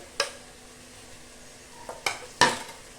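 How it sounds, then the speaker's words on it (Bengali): Brief scraping stirs of spices and ginger paste in a pan with a soft sizzle underneath, three or four quick strokes spaced apart, close and fairly clear. "এবার মশলাটাকে ভালো করে কষিয়ে নিতে হবে।"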